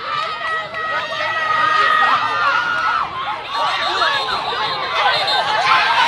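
Crowd noise at a high school football game between the Longwood Panthers and John Hope, a loud steady mass of cheering and chatter from the stands that swells and dips throughout with scattered shouts and no clear single voice.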